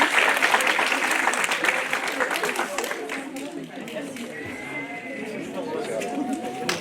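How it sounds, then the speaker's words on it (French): Enthusiastic crowd applause at an Aramaic course certificate ceremony, with steady clapping that fades slightly midway, mixed with scattered voices and cheering from the audience. "Vous pouvez les applaudir, hein?"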